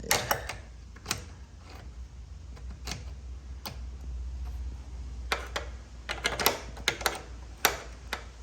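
Metal wrench clicks and ratchets on a bolt while a kart is being built, sparse sharp ticks and clanks spread across a quiet workshop background with a low steady hum.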